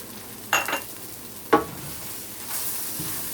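Ginger and garlic hit a hot pan during a cabbage and beef stir-fry, giving two sharp bursts of sizzling and stirring, each followed by a softer sizzle that keeps going. No one speaks.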